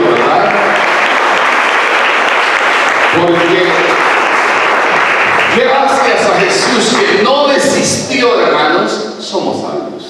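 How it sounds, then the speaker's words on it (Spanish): A church congregation claps loudly and steadily for about eight seconds, with a preacher's voice and cheers layered over the applause before it begins to thin out at the end. "Un aplauso al Señor esta mañana"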